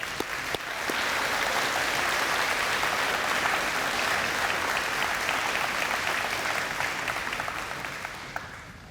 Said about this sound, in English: If we could just have a round of applause.